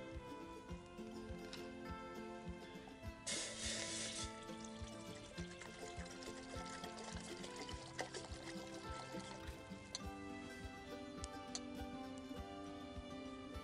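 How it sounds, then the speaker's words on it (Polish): Hot water poured slowly onto yerba mate outdoors at a forest campsite, a soft continuous trickle heard faintly over a quiet background with occasional small ticks and crackles. "Myślę, że jerbkę można już zalewać pomału, bo do jerby akurat wrząca woda to niewskazana."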